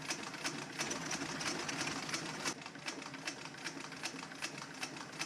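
A sewing machine hems a leather tool bag with a rapid, even mechanical clatter of needle strokes running steadily throughout, close and moderately quiet, with no talking.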